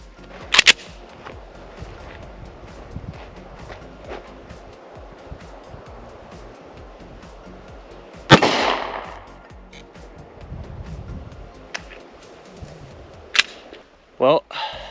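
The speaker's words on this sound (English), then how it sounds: "next up, we got 45 ACP FMJ" .45 ACP full metal jacket rounds fired outdoors at a level 4 ICW armor plate: a few sharp, loud reports, with one big blast mid-clip and quicker cracks near the end, over a steady background of outdoor noise.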